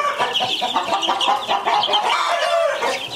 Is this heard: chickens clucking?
yes